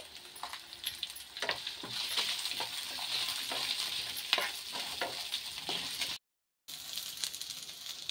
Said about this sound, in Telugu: ఆనియన్స్ వేసి కొద్దిసేపు ఫ్రై అవనిచ్చి